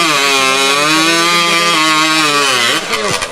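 A hot saw cutting timber at a STIHL TimberSports New Zealand championship, a loud, high-revving engine howl held steady, then dipping and wavering as the cut ends.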